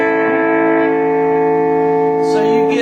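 A blues guitar sounds a three-note major triad of root, third and fifth, ringing as one sustained chord with effects, reverb and slight distortion. A brief higher-pitched rise comes near the end.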